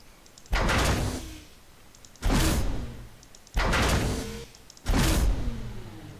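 Four door sound cues from an Unreal Development Kit game level, each a loud sudden whoosh and thud that fades with a ringing tail, spaced roughly one and a half seconds apart with no voices.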